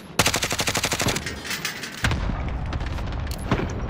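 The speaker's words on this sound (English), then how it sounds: "Cluster strike inbound." Rapid bursts of gunfire in Call of Duty give way to a cluster strike's heavy, rumbling explosions that roll on for several seconds, loud and close, with no talking over them.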